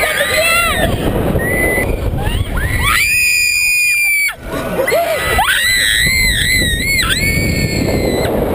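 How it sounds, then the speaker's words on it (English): Riders scream on The Claw, a swinging thrill ride at Dreamworld. The shrill, wavering screams from many voices are loud and continuous, with heavy wind rush on the microphone and a short lull midway. "Remember, we want you screaming."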